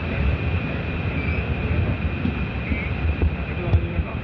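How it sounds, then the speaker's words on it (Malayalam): The Kerala Jan Shatabdi express rumbles steadily as it slows through Ochira station, a low continuous rolling drone with a faint whine heard from inside the coach. "ഇപ്പോൾ ഓച്ചിറ സ്റ്റേഷൻ എത്തിയപ്പോഴത്തേക്ക് ട്രെയിൻ സ്പീഡ് ഒന്ന് കുറച്ചു"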